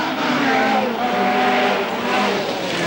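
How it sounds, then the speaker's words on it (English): A Lancia rally car driven hard through a stage of the 1985 1000 Lakes Rally, a loud sustained engine roar with slight swells, close and continuous under a faint wash of noise. "He's hurling the pretty Lancia through the stages"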